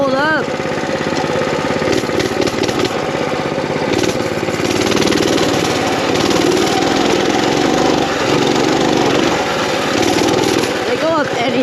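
Mini bikes ride through water with a loud, continuous, close buzzing engine roar that barely varies, while people talk over it.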